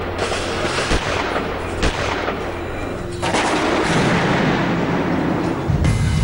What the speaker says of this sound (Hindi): मिनी सचिवालय और पास के कुछ आधे अधूरे बने मकानों की ओर से आतंकी गोलियां बरसाने लगे।